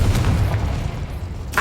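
Fire spell blasts in the video game Hogwarts Legacy, a dense, rumbling low boom that rolls on, then a sharp fresh burst near the end, loud and close.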